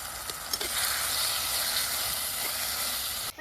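Ripe tomatoes frying in a crab masala pan, village style, giving a steady broadband hiss and sizzle that stays level throughout with no talking.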